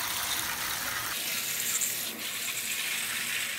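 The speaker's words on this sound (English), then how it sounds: "I'm just going to create a nice little rain shower over the plants." Tepid water showered over orchid plants in semi-hydroponic culture, a steady close hiss of spraying and pattering water that continues evenly throughout.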